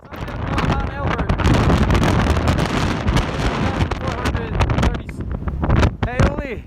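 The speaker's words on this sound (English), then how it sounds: "you're going to hear some pretty fierce wind" Fierce gusting wind buffets the microphone on the high, exposed summit of Mount Elbert, a loud, continuous roar with rumbling bursts throughout and a voice briefly heard near the end.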